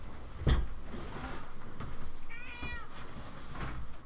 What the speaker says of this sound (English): I need to let the cat out.